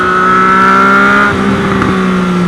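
A Triumph Street Triple 765 motorcycle engine held at loud, steady revs close by, then easing off, with a sharp exhaust crackle popping out as the revs drop.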